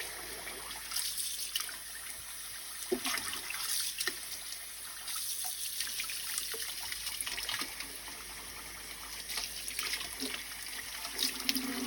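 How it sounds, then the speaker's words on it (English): Tap water runs steadily into a basin during a dog's bath, a continuous close splashing trickle with small irregular spatters, and no talking over it. "you always have your hand in running water to make sure it's not too hot, not too cold"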